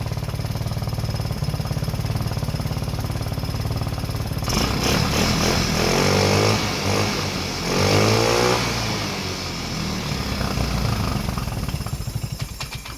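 A GY6 150cc engine in a Blade 150 / RZR170 clone UTV runs steadily at idle, then revs higher in two loud surges before settling back, a continuous close mechanical drone with no talk.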